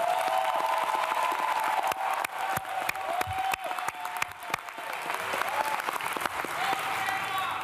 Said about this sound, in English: How about a nice round of applause to the graduates and the families?